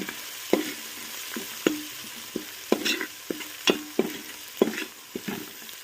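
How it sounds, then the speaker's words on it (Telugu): Chicken biryani masala with turmeric being stirred in a frying pan, a soft background sizzle broken by about a dozen irregular spoon scrapes and clinks against the pan, close and fairly quiet. "దీంట్లోకి ఇప్పుడు కొంచెం పసుపు వేసుకుందాం. పసుపు వేసుకొని కలుపుకొని"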